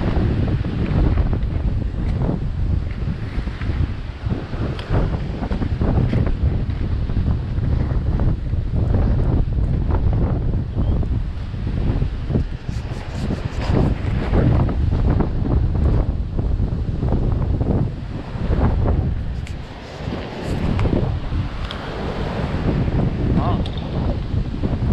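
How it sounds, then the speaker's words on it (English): Breezy wind on a coastline, loud continuous gusts buffeting the microphone, with surf rumbling underneath throughout. "Nice day, not rough, but nice and breezy."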